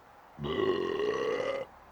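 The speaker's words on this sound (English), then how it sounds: "Burp line's out." A single long, drawn-out burp after drinking Kölsch home brew, loud and close, lasting just over a second with a steady throaty tone.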